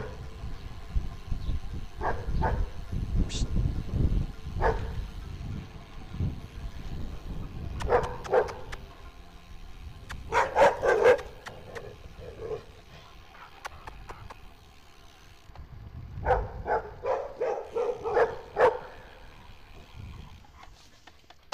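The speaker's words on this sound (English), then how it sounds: "All the street dogs are out playing this morning." Street dogs barking while they play outdoors in the morning: several bursts of loud, sharp barks and yips come in clusters, with quieter gaps and scuffling between the bursts.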